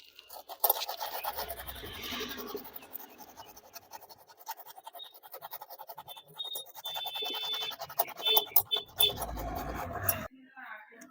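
Sandpaper is rubbed by hand over a tubeless tyre during a puncture repair, making an uneven, close scratching and rasping that comes and goes in strokes, with someone talking over parts of it.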